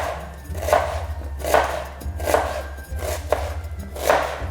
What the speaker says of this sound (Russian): лук режешь или кольцами, полукольцами, как удобно